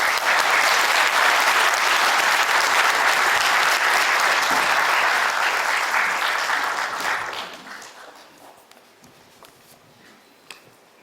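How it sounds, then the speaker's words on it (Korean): Loud, sustained applause from a large church congregation for about seven seconds, then fading into quieter scattered claps and room noise. "우리 총회장님 나오실 때 박수 한번 보내주시죠"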